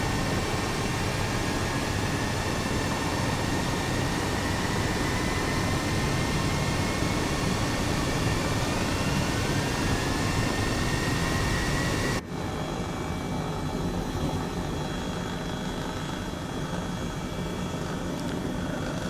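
Jet engine of an aircraft in Microsoft Flight Simulator, heard as a steady broadband roar with a rising whine. The roar holds loud and constant, then drops abruptly in level partway through and continues more quietly.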